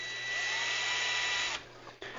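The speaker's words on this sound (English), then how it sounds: "I'm just going to drill a hole right through that." A power drill whines steadily as it bores a hole through a plastic tank barb. The high-pitched motor runs for about a second and a half, then stops, and a short buzzing burst follows. No one speaks.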